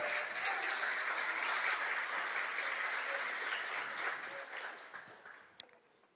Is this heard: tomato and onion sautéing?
no